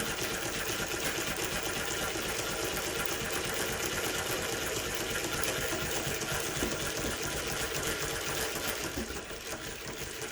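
A Mannan three-thread chain stitch embroidery machine stitches around a pillow, producing a faint, steady mechanical whir and rapid needle clatter throughout with no talking, the hum dipping briefly near the end.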